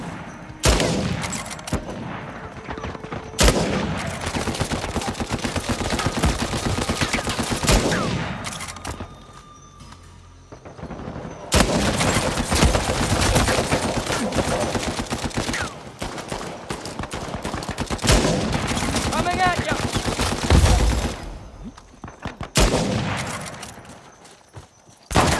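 Sustained bursts of rapid gunfire from a sniper match in the video game Uncharted 4, dense and loud, with near-continuous volleys broken by a couple of brief lulls and no talking.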